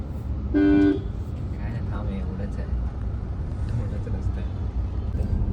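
Evening city traffic at a junction in Thane, with one loud car horn blast near the start over a steady rumble of engines; people talk over the traffic.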